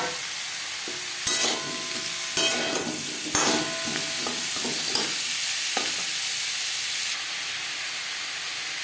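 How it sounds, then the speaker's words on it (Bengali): Potatoes frying in hot refined oil make a continuous hissing sizzle, punctuated by several sharp clanks and scrapes of a spatula against the pan before the hiss eases near the end; no speech. "এক চামচ রিফাইন্ড অয়েল গরম করে নিয়েছি এবার দিয়ে দেবো আলু"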